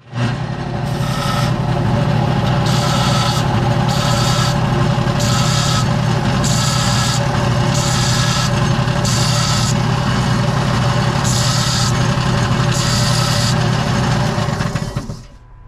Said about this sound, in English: So let's grind this down.